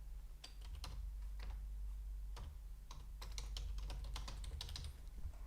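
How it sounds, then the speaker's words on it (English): Name being typed on a computer keyboard, a quick irregular run of light key clicks close by with short pauses between bursts, over a steady low hum. "basically type in a name."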